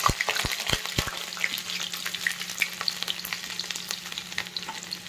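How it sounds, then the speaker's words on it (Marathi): Garlic sizzles in hot oil after mustard seeds have crackled, a close, busy frying hiss with several sharp pops at the start and scattered crackles afterward, with no talk. "मोहरी तडकल्यानंतर आता यात पहिल्यांदा लसूण टाकणार आहोत."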